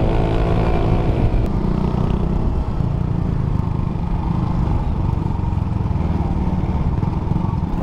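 A stock Raider J 115 Fi motorcycle on the road, its engine droning steadily and loudly throughout with a constant rough rumble and some clatter, close to the rider.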